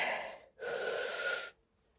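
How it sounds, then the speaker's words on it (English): One slow, deep inhalation during a calm relaxation exercise, breathy and close, drawn in over about a second after a short breath before it, with no talk over it. "take a deep breath in"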